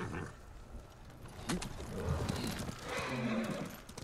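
A horse in the samurai video game Ghost of Tsushima whinnies and clops along, its neigh and hoofbeats fairly faint and mixed with game ambience, while a man calls out briefly.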